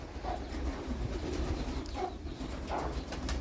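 Pigeons coo softly and repeatedly while pecking at scattered grain, low murmuring calls close by over a steady hum of background noise, with no talking.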